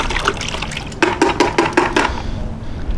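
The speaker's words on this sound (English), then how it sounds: "Gonna rinse." Running tap water rinses grilling tools after cooking, a steady close splash with several sharp bursts of water hitting a surface in rapid succession before the flow settles back.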